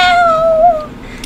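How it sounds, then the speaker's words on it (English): A cat gives a single short, clear meow close by, rising then falling and fading after about a second. "The cat says hi."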